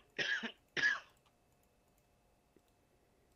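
Two sharp coughs from one person in quick succession near the start, fairly close, during a Warcraft 3 custom free-for-all match, followed by near silence with a faint click.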